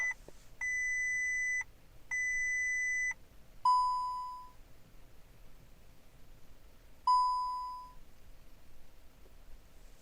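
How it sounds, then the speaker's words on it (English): Car dashboard warning chimes sound while the ECU refreshes: two long sustained beep tones, then two shorter decaying chimes, clear and close in a quiet interior. "you'll get a whole load of warnings or beeping popping at you in a minute"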